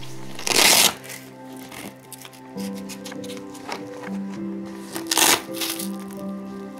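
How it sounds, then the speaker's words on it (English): The straps of an Aircast leg cast are pulled tight in two sharp, close ripping bursts, with quieter rustling between them and a soft tonal background underneath. "When that's done, tighten the straps firmly."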